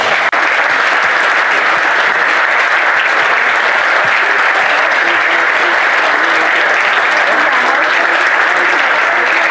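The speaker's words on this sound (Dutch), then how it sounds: "Dus een keihard applaus voor al die vrijwilligers." A crowd at a Dutch club's 75th-anniversary reception gives the volunteers a loud, sustained round of applause, dense and even clapping that continues unbroken for several seconds.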